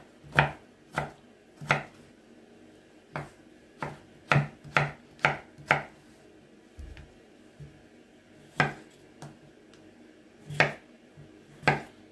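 Knife chopping a potato into 5 mm sticks on a board, crisp close thuds in uneven clusters with short gaps between runs.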